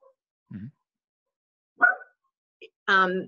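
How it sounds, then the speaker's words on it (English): A dog gives a few short, separate barks and yips indoors in a home office, spaced out across otherwise quiet moments, with no one talking over them. "sorry, my dog is here"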